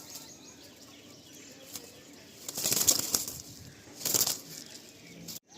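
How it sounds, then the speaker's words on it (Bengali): Old-line Giribaz pigeons at a pigeon sale near Subhasgram station break into two short bursts of wing flapping against a quiet background. The flapping is moderately close, and no one speaks during it. "এটা একদম পুরাতন লাইনের গিরিবাজ পায়রা"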